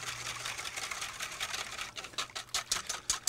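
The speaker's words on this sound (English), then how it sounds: "The idea when you're whisking this is you're incorporating air into your cream." Heavy cream being whisked by hand into whipped cream, a steady rapid rhythmic ticking of the whisk against the bowl that grows sharper and more separated toward the end, close and fairly quiet.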